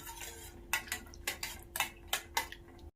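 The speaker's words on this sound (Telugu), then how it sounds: "జీడిపప్పు వేసి గోల్డెన్ కలర్ వచ్చే వరకు ఇలా ఫ్రై చేసుకోవాలి" Cashew nuts frying in a pan for jaggery pongal, stirred with a metal spoon: about six sharp clinks and scrapes against the pan in an even rhythm over a low background hum.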